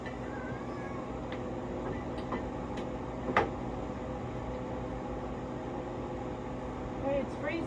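A home freeze dryer starting up and running: a steady, even mechanical hum fills the space, broken by a few faint ticks and one sharper click partway through.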